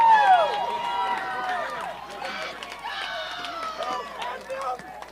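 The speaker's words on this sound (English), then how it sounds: "It's very loud here in Calabasas as the Agoura fans are cheering" Agoura fans cheer loudly at a high school boys baseball game in Calabasas, a shrill mix of whoops and shouting voices rising and falling throughout, with crowd chatter beneath.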